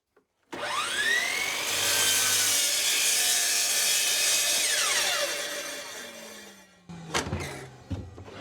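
A power saw cuts a plywood board for a door, spinning up loudly, whining steadily through the cut, then winding down slowly to a stop, followed by a few knocks and clatters.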